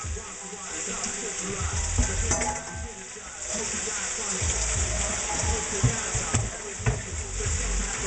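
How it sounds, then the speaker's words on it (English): Chorizo and ground beef sizzle and fry steadily in a pan, with bursts of stirring and scraping over the continuous hiss. "I'm gonna put the chorizo and the ground beef in the other."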